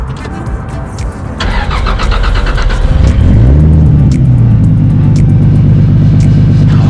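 A MK4 Toyota Supra with a 2JZ engine cranks and fires up loudly and close, settling into a deep, steady idle rumble after a brief starter whir.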